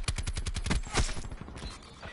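Rapid automatic fire from a Titan LMG in Black Ops 4, a dense stream of loud, evenly spaced shots at very high rate, close up, easing into scattered game noise toward the end.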